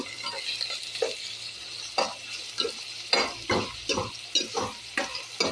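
Food sautéing in a frying pan gives a soft sizzle broken by rhythmic scraping and clinking strokes of a utensil against the pan, repeated every half second or so.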